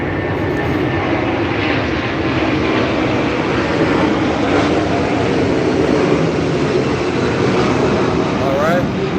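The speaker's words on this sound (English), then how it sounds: "So, y'all just heard an airplane. That's an airplane." Propeller airplane passing overhead, a loud steady broadband engine roar that fills the whole stretch with no talk over it.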